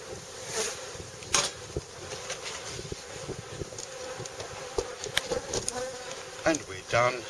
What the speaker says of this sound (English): they seem to be quite nice, calm bees